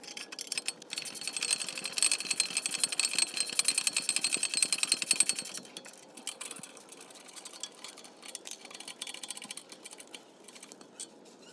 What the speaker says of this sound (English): So I'm gonna tighten both of the bolts.